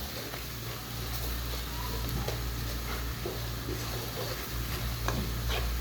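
Spinach and meat with salt, chili, turmeric and coriander cooking in a pan for palak gosht, giving a constant close sizzle broken by a few scrapes and stirring knocks over a low steady hum, with no talking.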